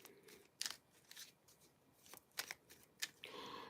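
A deck of oracle cards is shuffled in several quick, crisp riffles and snaps, close and fairly quiet, with a brief bridging flutter at the end.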